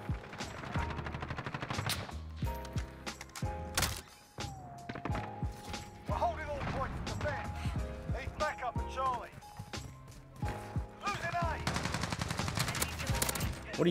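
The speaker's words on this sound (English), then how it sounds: "Why are you shooting at me?" Rapid bursts of automatic gunfire and single shots ring out in a Call of Duty: Modern Warfare match, layered over game music and voices talking throughout.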